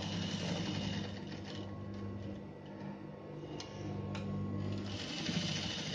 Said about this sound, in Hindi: और डबल सिलाई मार देंगे, इसको भी यहाँ से आगे पीछे करेंगे